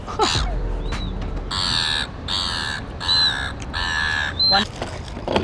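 Seagulls at Sydney Fish Market give a run of loud, harsh repeated calls close by, about five raucous cries in quick succession over faint background noise.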